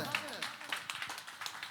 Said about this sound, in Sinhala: පොඩි අත්පුඩියක් ඔන්න සියලුම දෙනාගෙන් අත්පුඩිය සද්දෙට